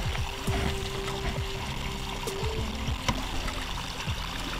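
Water trickles and splashes steadily through a gold sluice box outdoors during a panning cleanout, with occasional knocks and clatters of gravel and gear over the constant flow.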